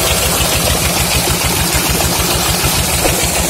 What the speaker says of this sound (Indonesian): Padahal kalau kita dengar dari bunyi mesinnya itu tidak terlalu kenceng, santai.